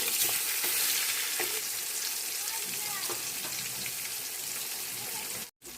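Fish pieces fry in mustard oil in a pan, a dense steady sizzle with occasional scraping as they are turned, ending in a brief sudden break.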